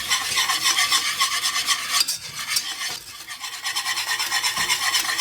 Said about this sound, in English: Once your butter is melted, you're going to whisk your flour in.